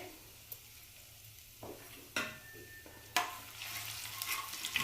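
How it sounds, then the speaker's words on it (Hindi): Chopped ginger and crushed coriander seeds fry in hot oil in a pan for a sweet-sour raw mango curry, with a steady soft sizzle broken by a few sharp stirring scrapes that grow a little louder toward the end. "तो अदरक को भी हमने अच्छे से भून लिया है।"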